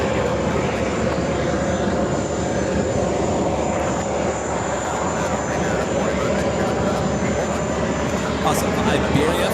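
A Delta Airlines jet at JFK bound for Athens roars loudly and continuously in a broad, steady rumble while a voice talks over it.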